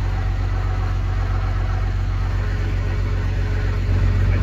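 A Cummins diesel truck engine idles steadily after startup, still warm, with a deep, even low rumble, close and continuous throughout.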